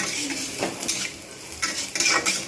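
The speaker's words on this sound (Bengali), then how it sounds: "আমি পেঁয়াজগুলো আরও এখন ভাজবো কিছুক্ষণ" Onions fry in a pan for bottle gourd kofta curry, with a spatula clattering and scraping against the metal in quick, uneven knocks over a soft, low sizzle.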